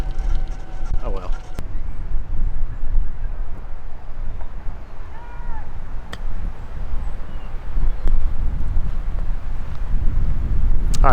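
Wind gusts hard across an open golf course, a steady rushing buffet on the microphone that holds through the whole stretch, with a few sharp knocks and voices mixed in underneath.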